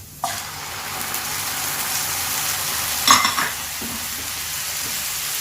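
Rice stir-fries in a pan with watery shrimp paste chili sauce, egg, carrot and cucumber, a loud, steady sizzle that starts abruptly and keeps going, with a sharper spatter and clatter of stirring around the middle.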